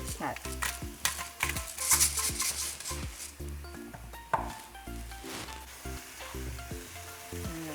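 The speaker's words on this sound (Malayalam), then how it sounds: "ഇളക്കി കൊടുക്കാം നന്നായിട്ട്" Egg roast curry being stirred in a pan, with a steady sizzle of frying and repeated scraping strokes of a spoon against the metal, up close and with no talk.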